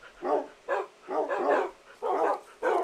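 A pack of tamed wolves in Minecraft yaps in five or six short, bright barks, evenly spaced and close up, with no talking over them.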